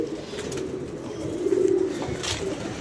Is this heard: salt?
no